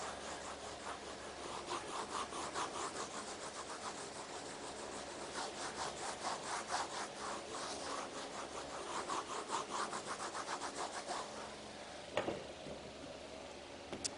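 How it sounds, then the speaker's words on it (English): Alcohol wipes are rubbed against a wall in quick back-and-forth strokes, giving a soft, close, rhythmic scrubbing that keeps going throughout, with no talking. "So these are alcohol wipes."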